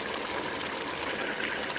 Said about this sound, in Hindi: तो चलें अब हम इसमें घी डालते हैं और इसकी भुनाई शुरू करते हैं